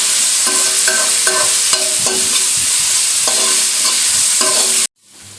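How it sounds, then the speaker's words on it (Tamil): Ground ginger garlic paste sizzles steadily in hot oil for a crab gravy, loud and close, with repeated scraping stirs over the frying before it cuts off near the end. "இஞ்சி பூண்டு பச்சை வாசனை வர அளவுக்கு நம்ம கொஞ்ச நேரம் எண்ணெயில் வச்சிடணும்"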